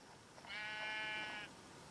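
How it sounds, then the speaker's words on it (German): A single drawn-out sheep bleat in Minecraft, wavering and nasal, lasting about a second against a quiet background with no talking. "Ich höre Schafe."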